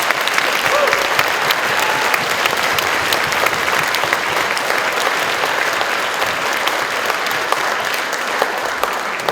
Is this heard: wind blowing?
no